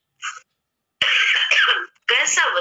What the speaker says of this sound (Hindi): इसी समय अदबदा के खांसी आती है